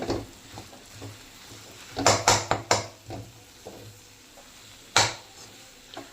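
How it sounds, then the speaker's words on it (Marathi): A spoon scrapes and stirs a thick coconut and milk-powder mixture for coconut vadi in a pan, with quiet background scraping broken by a quick cluster of sharp strokes and one later loud scrape. "मी सगळं मिक्स करून घेते"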